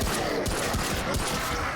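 Steady automatic gunfire from a player's weapon in the action shooter Remnant from the Ashes, a dense, continuous stream of loud, close shots aimed at enemy bodies, with no pauses across the burst.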